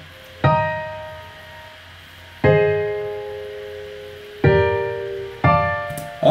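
An FL Studio melody with each note doubled an octave above plays as four sustained, bright synth notes struck one after another about two seconds apart, with a fifth beginning right at the end and no talk.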